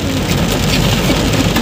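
Steady, dense rain falls in Mussoorie, a loud continuous hiss of drops on surfaces that fills the whole moment without a break.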